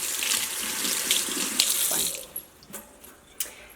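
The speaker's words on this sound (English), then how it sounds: "just pause after you set up your tea on the stove and just wash your hands really good" Tap water runs loudly into a kitchen sink as hands are washed beneath it, then the flow cuts off, leaving a few drips and splashes.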